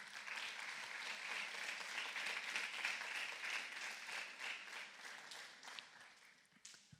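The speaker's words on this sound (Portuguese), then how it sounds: "Inclusive, pode aplaudir o Senhor Jesus." A church congregation applauds in praise, steady crowd clapping heard from a distance that swells, holds, and then thins out and fades toward the end.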